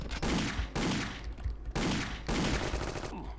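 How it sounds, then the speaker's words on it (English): Bursts of shotgun fire from the Indiana Jones and the Infernal Machine game, set in King Solomon's Mines, come as two long, loud, dense blasts of gunfire separated by brief pauses. "Who's coming at me with a shotgun and why?"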